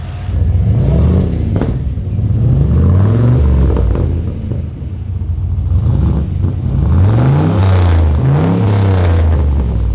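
A turbocharged LS1 engine in a VY ute is revved in short bursts, rising and falling loudly close by with rumbling and clattery overrun between the blips.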